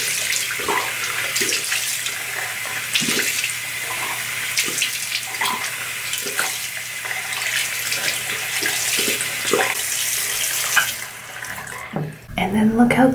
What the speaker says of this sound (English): So I'm gonna rinse this out and I'll show you guys how I rinse it out.